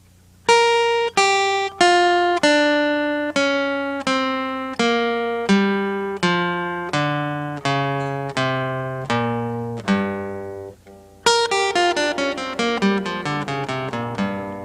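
Acoustic guitar plucks a scale descending note by note at a steady pace, each tone ringing clearly and decaying, then a quick rolled run of notes near the end, with no talking.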